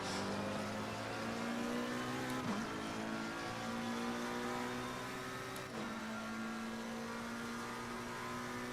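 A GT3 race car engine held at full throttle in Assetto Corsa Competizione, a loud, steady, close droning whine that climbs in pitch, drops sharply at two gear shifts, then climbs again, with no talking.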